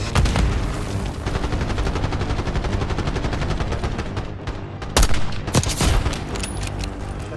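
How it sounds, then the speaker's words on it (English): Mortar and gunfire in the video game Call of Duty Black Ops 6 during a battle in Kuwait: continuous rapid automatic fire with sharp louder cracks and booms bursting through near the end, loud and close. "Got mortar fire!"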